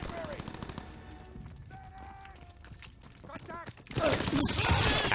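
Rapid assault rifle bursts ring out in Call of Duty: WWII, building into loud, dense automatic fire near the end after quieter stretches of distant shots and ambient battlefield noise.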